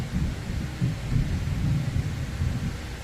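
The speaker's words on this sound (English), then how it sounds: "Thundering pretty good outside." Thunder outside a building during a storm, a continuous low rolling rumble that swells and fades for a few seconds, with nobody speaking.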